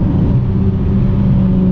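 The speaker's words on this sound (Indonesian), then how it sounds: "ini mesti berani main RPM tinggi men" A Toyota MR2 second-generation W20 engine held at high RPM during a test drive, giving a steady, loud, continuous drone and rumble without pause, heard from inside the car.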